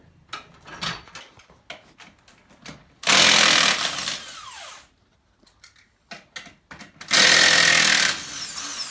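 An impact wrench works the 33-inch tires off a Jeep Cherokee XJ in two loud, sustained whirring bursts of about two seconds each, separated by clanking and handling of tools and lug nuts nearby.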